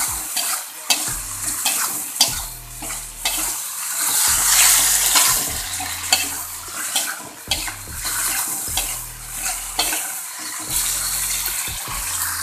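Snails being stir-fried in a pan, with steady sizzling broken by repeated scraping and clacking stirring strokes, close and loud, without talk.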